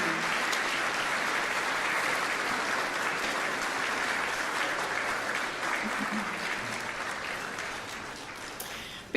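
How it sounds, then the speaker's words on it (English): An audience applauds in a city council chamber at a state-of-the-city address, a dense, steady clapping that stays loud throughout and tapers only slightly near the end. "while they're exiting, we'll applaud them one more time"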